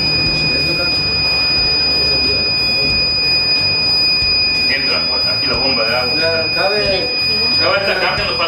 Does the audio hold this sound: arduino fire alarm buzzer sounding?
yes